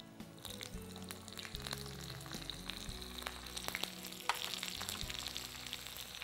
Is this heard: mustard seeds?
yes